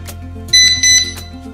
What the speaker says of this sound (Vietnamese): khi mà chúng ta tắt báo động, bật báo động thì mỗi lần thao tác ở đây thì trên còi sẽ phát ra âm thanh cảnh báo